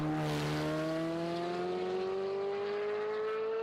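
A modern entry-level supercar fitted with a full exhaust revs up, giving a steady, buzzy engine drone whose pitch climbs gradually, loud and close and heard on its own.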